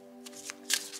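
Oracle cards are shuffled for a card reading in one quick, close papery riffle and flutter that lasts about a second, over a faint steady hum.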